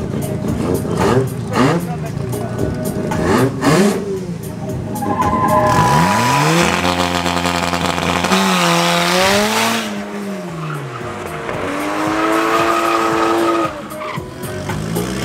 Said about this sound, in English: Love this little rotary 13B. Normally aspirated rear wheel drive.